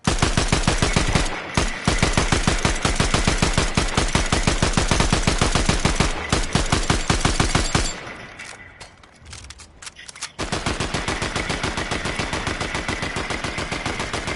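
Rapid automatic gunfire in the Fortnite video game, aimed at a wall, rattles on loud and nearly continuous. It pauses briefly in the middle, then resumes at full intensity, with no voices over it.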